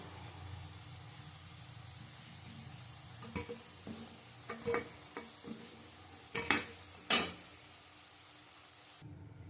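Lentil fritters (bora) frying in a pan, seasoned with salt and turmeric, give a low, steady hiss broken by scattered clicks and several sharp pops near the end, with no talking.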